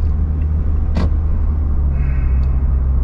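A car's engine and road noise make a low, steady rumble from inside the cabin as it drives along, with a brief louder whoosh partway through and no talking.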